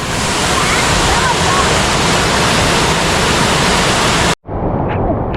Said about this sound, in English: There's been so much water going through here that there's actually waterfalls where there normally isn't